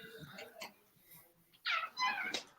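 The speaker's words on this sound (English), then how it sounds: "Somebody have a cat in the background?" A house cat meows twice in the background, short nasal calls close together near the end, after some quieter talk and noise.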